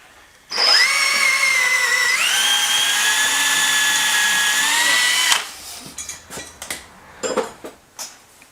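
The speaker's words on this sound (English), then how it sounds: "we've got our two holes drilled" A power drill bores through a part of a 1959 BSA C15T motorcycle, a loud steady whine lasting about five seconds with its pitch shifting partway through. Several sharp metallic clinks and knocks follow.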